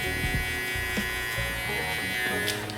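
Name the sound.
hair clippers cutting hair during a fade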